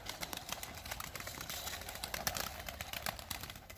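Pigeons lifting off and flying during wing and target training, a dense continuous flutter of many wingbeats with scattered sharp flaps close by, steady throughout with no talking.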